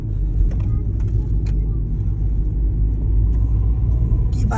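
A car runs along a road in the Swiss Alps, its steady low engine rumble and road roar filling the scene continuously, close and fairly loud, with faint voices and small clicks in the background.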